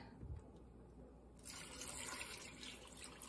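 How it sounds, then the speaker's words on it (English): Water pours steadily into a bag of apple scraps with a soft, continuous rush that grows louder partway through, faint and close in a quiet kitchen. "Then you're gonna add 5 cups of water to this."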